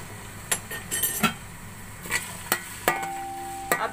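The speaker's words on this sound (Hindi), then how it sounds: "अब इसको हल्की आंच में थोड़ी देर फ्राई कर लेंगे।" Garlic paste frying in hot cooking oil over a low flame, a soft steady sizzle with a few sharp clinks and scrapes of a spoon stirring in the pan, close and fairly quiet.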